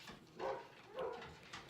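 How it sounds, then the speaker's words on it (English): A small hyper pet dog barking indoors, two distinct barks about half a second apart followed by a fainter third, somewhat distant and quiet. "And the dog's barking."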